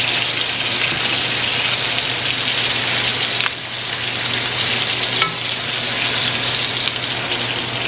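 Garlic dropped into hot oil sizzles and crackles loudly and continuously, a dense frying hiss with occasional pops and stirring.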